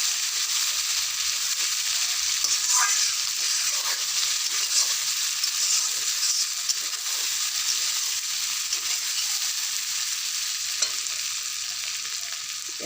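Potato and tomato with spices fry in a pan, a loud continuous sizzle close by with the scrape and clatter of stirring throughout, and no voices.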